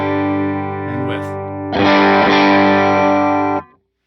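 An electric guitar plays through a Line 6 HX Stomp with distortion and a slight mid-range EQ boost. A sustained chord rings first, then a louder strummed chord swells and holds before cutting off sharply.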